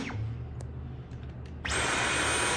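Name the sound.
Dyson V11 cordless vacuum cleaner running in eco mode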